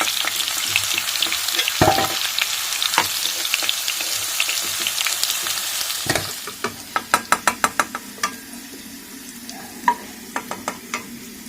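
Food sizzling steadily in hot oil, with sharp crackles and pops growing more distinct toward the end, alongside occasional utensil knocks; no talking.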